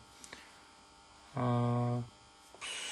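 A military electronic warfare jammer powered from 24 volts gives a steady electrical hum with strong harmonics for about a second, then drops back to a low background buzz and rises again briefly, with no talking.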